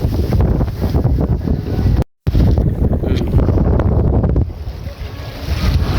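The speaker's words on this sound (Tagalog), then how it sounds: "Lakas ng hangin." Strong wind buffets the microphone on a fishing boat out at sea, a loud continuous roar with rushing water and waves beneath it, broken by one brief dropout.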